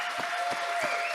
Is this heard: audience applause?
yes